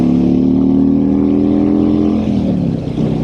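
A Harley-Davidson Freewheeler trike powers up under acceleration, its engine note loud and close, a steady rising drone that shifts pitch partway through as it pulls hard with plenty of torque.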